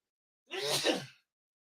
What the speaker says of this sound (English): I got to sneeze. It's coming.